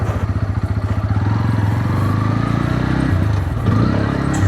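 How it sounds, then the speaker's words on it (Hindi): A Bajaj Pulsar N160 motorcycle with an underbelly exhaust burbles steadily while being ridden on a real road, its low pulsing exhaust note close and continuous, rising slightly in pitch toward the end. "मैं इस बाइक की जो एक सबसे अच्छी चीज़ बता दूँ, इसका एग्जॉस्ट नोट है।"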